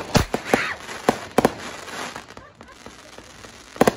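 New Year fireworks being set off, giving sharp scattered pops and crackles, some loud and close, spread unevenly across the moment with a quieter crackling stretch in the middle.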